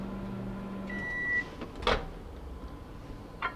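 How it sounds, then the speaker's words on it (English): A microwave oven heating a small portion of meat stuffing hums with a steady low drone, then a sharp beep and a clunk of the door opening, with a second short beep afterward. "cook it for about 15 to 20 seconds in the microwave"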